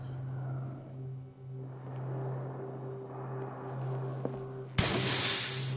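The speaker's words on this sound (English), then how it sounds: "It didn't hear the glass break-in, so I won't be worrying about that." Glass shatters in the Call of Cthulhu video game inside a mansion: a sudden, bright, loud crash near the end that cuts through a low, steady droning hum.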